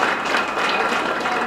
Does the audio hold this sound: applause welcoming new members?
yes